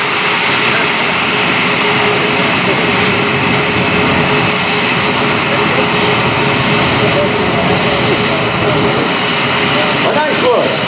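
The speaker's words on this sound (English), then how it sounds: "Let's demonstrate the high rate climb of the Tucano." Short Tucano turboprop aircraft in a high rate climb at an air force base airshow, a steady loud engine roar filling the air with broad wind-like noise throughout.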